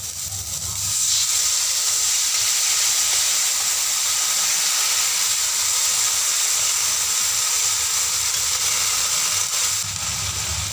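Water poured into a hot wok of stir-fried long beans and white tofu, a loud, steady hissing sizzle that swells just after the start and holds evenly, with no voices.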